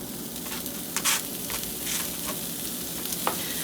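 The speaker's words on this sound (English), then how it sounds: "now that it's toasted, I'm just going to work on melting the cheese" Quesadilla sizzling steadily in a pan as the cheese melts after the tortilla is toasted, a continuous close crackle of frying with a few brief sharper pops and stirs.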